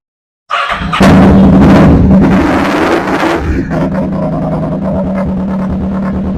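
A Kawasaki Vulcan 650 motorcycle starts up close by, with a loud cranking catch followed by a steady, rumbling idle that carries on evenly.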